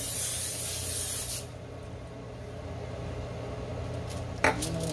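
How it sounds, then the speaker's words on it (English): Cooking spray hisses onto foil paper for about a second and a half, close and fairly loud, followed by quiet room noise and a small clatter near the end. "And give it a little spray because you don't want it to stick."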